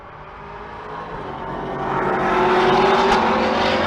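Drag race cars roar down the strip at Pueblo Motorsports Park, a loud, broad engine rush that swells and builds steadily as they run, with no voices over it.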